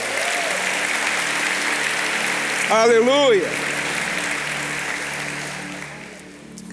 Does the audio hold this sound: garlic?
no